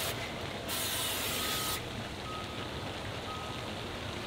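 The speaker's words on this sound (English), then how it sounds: "Now, I'm just going to take my canola oil, give it a good spray everywhere inside." Canola oil sprayed from a can inside a new grill, a single steady hissing burst lasting about a second, close and clear, with no talk over it.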